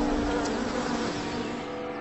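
Wasp buzzing steadily and close for two seconds, a continuous droning hum with no voices over it.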